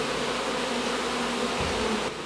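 Honey bees being dropped onto hive frames after rescue from a neighbour's wall, a dense continuous buzz from many insects close to the listener, loud and steady throughout.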